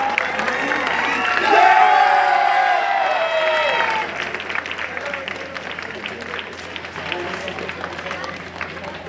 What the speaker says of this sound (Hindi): कैप्टन फरीद खान, जोरदार तालियां।